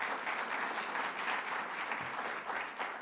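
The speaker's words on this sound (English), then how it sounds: "let's give him a round of applause" An audience at a climate week event applauds steadily for about three seconds, dense, even clapping from a fairly distant crowd.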